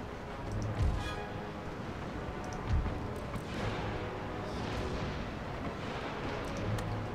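Naval or field cannons firing chain shot in the strategy game Empire: Total War, a continuous rumbling barrage with several heavier booms standing out above the steady roar of battle.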